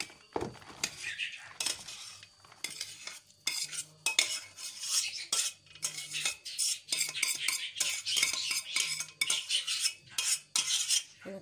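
A spoon stirs semolina in a pot in a string of irregular scraping and clinking strokes, close and fairly loud, with quieter pauses between bursts.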